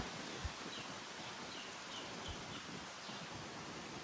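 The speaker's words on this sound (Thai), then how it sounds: "นี่ลมแรงมาก" Strong wind roars steadily through forest trees, a dense, continuous broadband rush with a few low gusty thumps, heard alone without talk.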